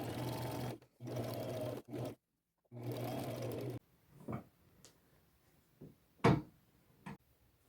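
A sewing machine zigzag-stitches a lace strip onto a plain white shirt in close, whirring bursts with short pauses between them, then falls quiet apart from a few scattered clicks and handling taps.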